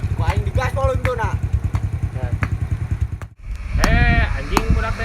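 A motorcycle engine revs in rapid pulsing bursts, loud and close, then drops away briefly before another strong rev, with someone talking over it.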